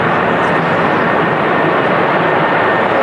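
A Jet2 Boeing 737 jet roars loudly and close at Manchester Airport on a windy evening, a steady broadband engine rush filling the whole moment without speech.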